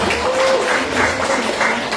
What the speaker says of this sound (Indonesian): tepuk tangan untuk orang tua kita